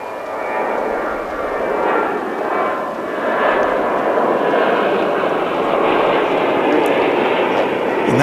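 An airliner takes off at DFW International Airport, its jet engines producing a loud, sustained broadband roar that holds steady from a fair distance across the whole stretch.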